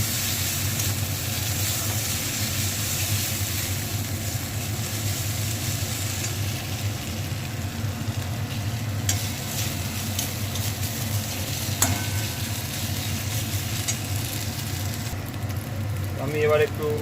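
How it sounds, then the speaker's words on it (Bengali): Masala with cumin powder frying in a pan for egg curry, giving a steady low sizzle and occasional stirring scrapes throughout, with a brief clatter near the end. "মশলাটাকে ভালো করে কষতে হবে।"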